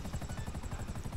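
Helicopter in Grand Theft Auto V Online, a steady rapid rotor chop thudding close and loud for a short stretch with no talk.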